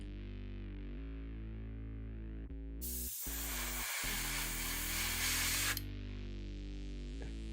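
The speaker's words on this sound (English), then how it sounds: "I'm still learning how to do this thing with the airbrush" Airbrush spraying paint onto model parts, a loud close hiss that bursts in and holds for about three seconds over a steady background of music.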